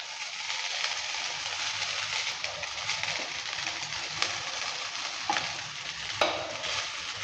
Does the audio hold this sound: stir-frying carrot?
yes